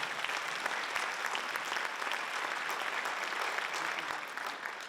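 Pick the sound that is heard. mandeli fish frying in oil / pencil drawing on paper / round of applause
round of applause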